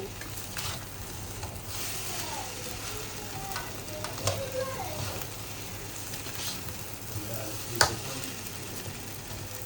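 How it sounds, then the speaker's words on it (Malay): Fried rice being stirred in a hot wok, steady sizzling with scraping spatula strokes and occasional clacks of metal against the pan, close up. "Kita kacau nasi ni"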